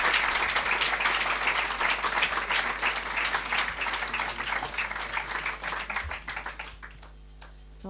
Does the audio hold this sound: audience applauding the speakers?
yes